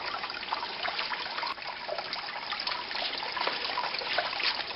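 Water running steadily into a container as a rooted pineapple top is set in it, a continuous close trickle and splash with no talk.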